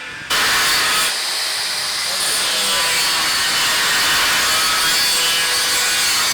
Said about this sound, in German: deswegen schneiden wir an den Rändern diese Verbindungshaken, die wir eh nicht brauchen, ab